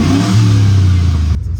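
A 1978 Chevy truck with a swapped-in motor and a short exhaust that ends before the door revs loudly close by, its deep throaty roar rising then cutting off sharply near the end.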